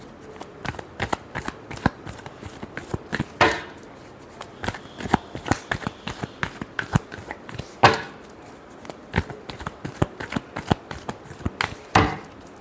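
Tarot cards being shuffled by hand, a steady run of crisp riffling flicks and slaps repeating for several seconds, close and clear with no talking.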